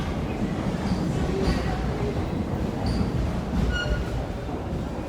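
A New York Number 7 subway train rumbles at the 74th Street–Broadway station in Woodside, Queens, a continuous low roar of wheels and cars with faint metallic squeals, heard nearby without talk.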